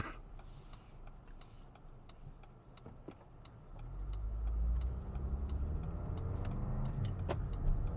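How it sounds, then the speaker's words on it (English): A 2026 Jeep Grand Cherokee Summit is shifted into drive with a rotary selector, with soft clicks and ticks from inside the cabin, then a low engine and road rumble swells as the SUV pulls away. "we'll shift into drive with this roller thing here and we will get out of here"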